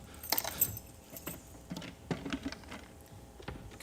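Keys jangle and clink as they change hands in a quiet room, a few bright metallic rattles with short pauses, fairly close and fairly soft, with no voices.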